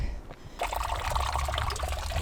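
Water trickles and splashes steadily from a spring in a hot hillside village on a Tenerife hike in Anaga, a continuous close, fairly loud flow.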